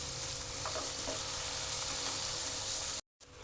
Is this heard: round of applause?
no